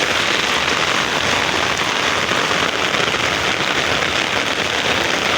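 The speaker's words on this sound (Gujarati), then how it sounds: "તણાઈ જાય એટલો વરસાદ આવ્યો." Heavy rain pours down steadily, a dense, loud, unbroken roar of drops hitting surfaces throughout.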